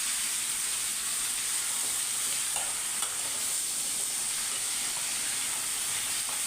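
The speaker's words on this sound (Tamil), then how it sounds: "இதெல்லாம் சேர்ந்து மிக்ஸ் பண்ணி இப்போ நம்ம நல்லா வதக்கி விட போகிறோம்" Radish and onions sautéing in a pan for radish chutney, a steady close sizzle and hiss of frying that runs unbroken throughout with only faint stirring scrapes.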